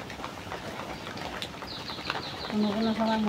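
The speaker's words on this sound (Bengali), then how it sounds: "অনেক বৃষ্টি" Heavy monsoon rain, alternating between downpour and scattered drops, hisses steadily in the background under a dark sky, while birds call and tonal chirps come in near the end.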